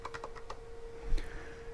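Keyboard keys clatter in a quick run of light taps and then pause, the sound of someone typing a search for the PuTTY program on a computer. Close and fairly quiet, with no talk.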